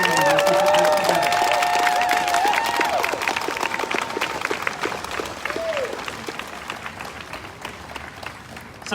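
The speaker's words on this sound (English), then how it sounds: "So can we give all a round of applause for the wonderful local organizers who put this together?" Crowd applause and cheering at a live community event, dense clapping with whoops and a loud whistle early on, gradually thinning and fading toward the end.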